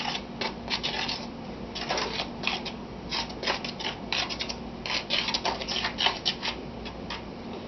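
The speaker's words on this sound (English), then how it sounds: "Stir it up a little bit." A spoon or whisk stirs flour and baking powder in a mixing bowl, giving a steady run of dry, scratchy scraping and ticking strokes with no talking.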